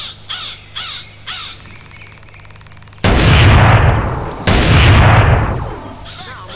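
Micro SMG gunfire from a GTA V weapon mod in GTA San Andreas comes as two loud, dense bursts after a few caws of crows, each burst followed by a short ringing tail.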